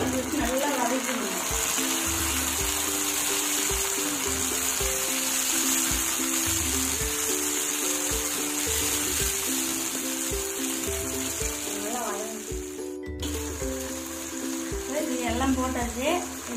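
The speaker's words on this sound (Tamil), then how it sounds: "நல்லா தக்காளி வதங்குற வரைக்கும் நல்லா வதக்கணும்." Chopped tomatoes and onions fry in a pan for an Indian egg curry, a constant sizzling hiss sitting under a voice and steady background music, with a clatter of utensils near the end.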